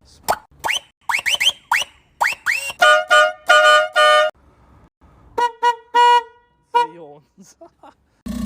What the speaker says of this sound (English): My air horn, powered by electric compressor.